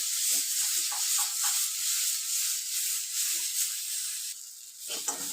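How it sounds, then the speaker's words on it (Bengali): Spice paste frying in mustard oil crackles and sizzles softly and close, with uneven bursts of spitting and a brief drop near the end before a final crackle; no voices. "পেস্টটা ফ্রাই করে নেব, কারণ সর্ষে অয়েলে একটু ফ্রাই করে নিলে খেতে ভালো লাগে"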